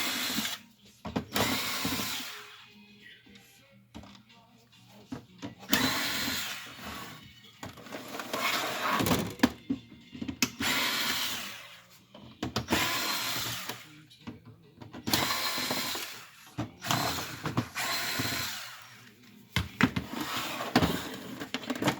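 A power driver whirs in repeated short bursts as screws come out of an HP Officejet J4580 printer during disassembly, each burst close and fairly loud with quieter gaps between.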